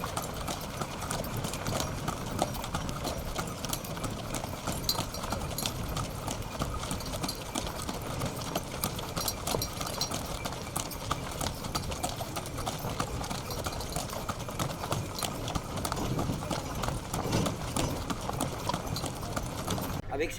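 A horse-drawn carriage moves along a sandy track near a nomad village, with steady clip-clop hoofbeats and rattling under continuous road and wind noise, while people talk through it.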